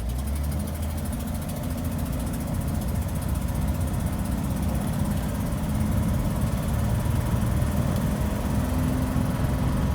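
A Ford car with a select-shift automatic transmission, held in first gear, runs with a steady, loud low engine drone and rumble throughout, no talking.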